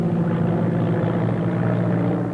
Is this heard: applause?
no